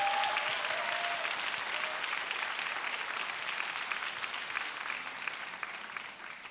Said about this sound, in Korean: 우리 수고해 주시는 목사님 전사님께 박수 한번 합시다.